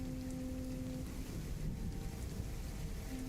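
A rain sound effect plays as a steady, dense hiss of falling rain with a low rumbling undertone, continuous and even, with faint tones humming beneath and no talking.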